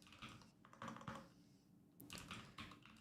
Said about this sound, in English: We'll do keyboard typing.